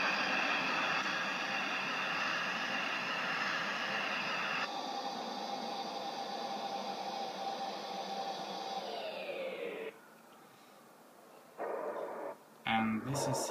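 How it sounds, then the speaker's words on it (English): Airbus A321 jet engines roaring steadily through a takeoff in the Infinite Flight simulator game, a loud continuous broadband rumble that suddenly drops away near the end, followed by a few brief bursts. "And this is how looks the takeoff."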